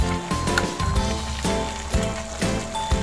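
A pot of chicken bubbles steadily on a stove with a dense crackle and light popping, with a few louder pops recurring throughout.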